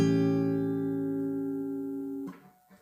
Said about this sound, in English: Dominant chord, 4 semitones lower, sounds like this.